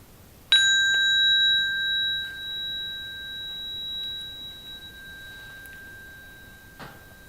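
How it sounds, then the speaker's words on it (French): A small hand bell, used in a Jaëll-Montessori music listening game, is struck once and left to ring, its clear high tone fading slowly over several seconds with a few faint knocks afterward. "quand j'entends plus le son de ma cloche"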